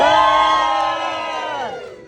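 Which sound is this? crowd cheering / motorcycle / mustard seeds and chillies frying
crowd cheering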